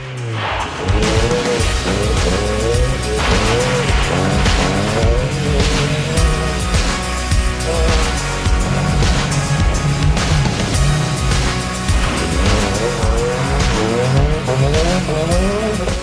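Rally car driven hard up a gravel road, its engine roaring loud and close throughout with rising and falling revs through gear changes, with no voices.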